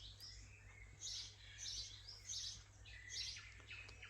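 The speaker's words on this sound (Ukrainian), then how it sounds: "Сидимо, їмо і насолоджуємось співом птахів." Several birds sing in short bright bursts of chirps and trills, fairly distant, over a steady low hum with no talking.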